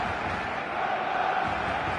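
A stadium crowd roars steadily through an eFootball League match played on PS5, a dense, loud wall of cheering and chanting that holds without a break.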